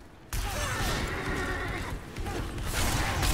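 A horse in a dungeon-crawling video game gives a loud, close whinny that starts abruptly, with clattering hoof sounds and game effects mixed in for a few seconds.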